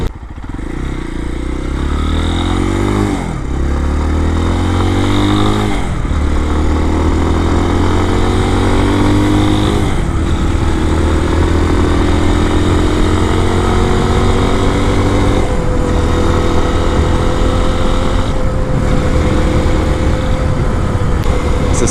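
A Lifan KPX 250 motorcycle with a 249cc EFI overhead-cam engine climbs hills under load, its loud, close engine note rising with each rev and dropping at several gear shifts through the six-speed box.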